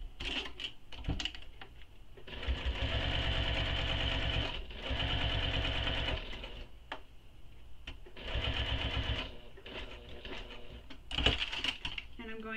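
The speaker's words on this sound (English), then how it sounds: "And just stitching all the way around." A sewing machine hums in several bursts of steady stitching around a wristlet's lining, with short pauses and light clicks between runs, close and alone.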